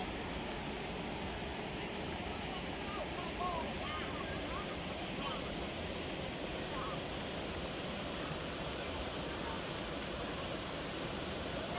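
Huai Chan waterfall in Khun Han, Sisaket, Thailand, gives off a steady, even rush of falling water that holds constant throughout.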